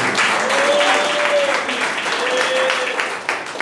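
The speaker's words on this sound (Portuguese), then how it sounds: "bate palmas bem alegres" A church congregation claps joyfully in a continuous, lively burst of applause that stays full and even throughout, with a faint tonal sound running underneath.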